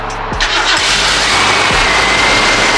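A Ford 302 V8 engine in a Fox-body race car cranks with a few stuttering turns, then catches and settles into a loud, steady rumbling idle close by.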